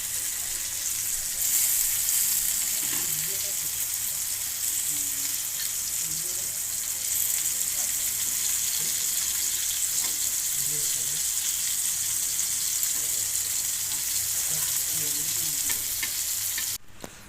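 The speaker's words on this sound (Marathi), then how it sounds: "ह्या बघा मस्त बाजत आहेत चरचरत आहे त्यांचा चरचरत आहेत ना" Prawns fry on a hot tawa with a loud, steady, crackling sizzle that runs almost unbroken from start to finish, with a faint voice under it at times.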